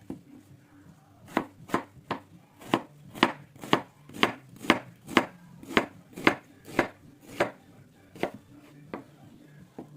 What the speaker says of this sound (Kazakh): Пиязды майдалап турап аламыз.